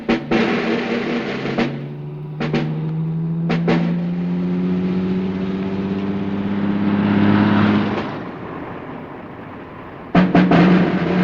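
Car driving off, engine revving and rising in pitch through several gear changes, with door or mechanical clunks at the start and end, heard fairly close with no talk.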